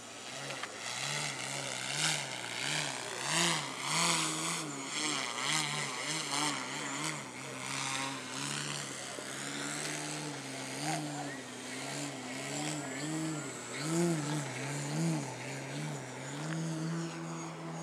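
An 88-inch Extreme Flight Extra 300 radio-controlled aerobatic plane flies overhead, its engine droning steadily with rising and falling pitch as it passes and turns, loud and continuous throughout.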